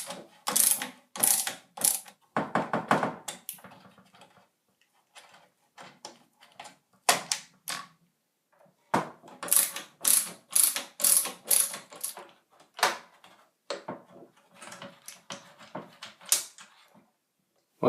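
Two Torx T15 screws are turned out of the lid lock on a Whirlpool Cabrio washer, giving rapid, close ratcheting clicks in repeated bursts separated by short pauses, with no talking.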